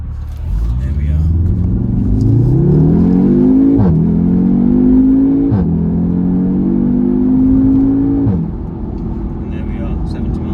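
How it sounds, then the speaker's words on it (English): An Audi TTS with a 2.0-litre engine accelerates hard from standstill to about 70 mph, the engine note rising loud and close through several gear changes before settling into a steady cruise. "It will allow me to demonstrate the pickup on this car from 0 to about 70 miles an hour."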